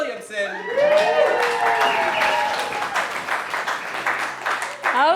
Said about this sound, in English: I want thunderous applause as people win these door prizes